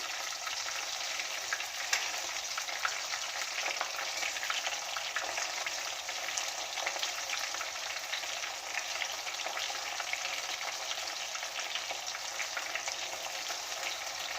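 Chicken 65 pieces sizzle steadily in hot oil for restaurant-style spicy chicken 65, a dense, even crackle running throughout with soft scrapes as they are turned with a spoon; no voices.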